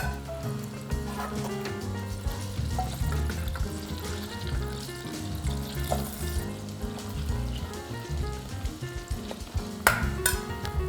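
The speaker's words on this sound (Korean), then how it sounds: "달군 후라이팬에 버터를 넣어주세요" Butter melts and sizzles gently in a preheated frying pan over medium-low heat, a soft continuous crackle with faint clinks and stirring noises, at low level.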